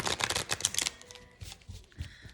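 Oracle cards are shuffled once in a quick burst of crisp, close riffling flutters, followed by a few softer taps and handling sounds.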